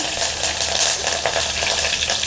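Cumin seeds and green chilies sizzle in hot oil in a pan for dahi vada, a loud, steady, crackling fry heard up close without talk.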